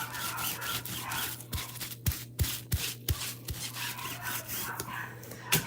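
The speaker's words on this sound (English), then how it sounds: "we're going to go ahead and rub this side" Repeated scrubbing of chalk paste across a mesh stencil on a board, a close, continuous rough rubbing with quick irregular strokes and occasional sharp taps, heard over a low steady hum.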